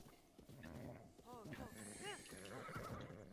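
A horse whinnies in Zelda: Breath of the Wild, its rising and falling neighs repeating through the middle of the clip, heard beneath continuous talking and game sounds.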